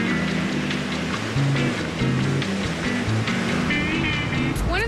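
Surf washing onto a beach in Brazil, a loud, dense, continuous rushing wash of breaking waves with no pauses, heard up close with no talking.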